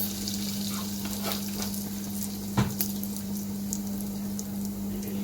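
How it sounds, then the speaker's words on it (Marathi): Cumin seeds and a pinch of asafoetida sizzle in hot tempering oil for a Konkan-style horse gram amti, a steady close frying hiss with one brief clatter midway and no talk. "जिरं घालायचंय, थोडंसं हिंग घालायचं।"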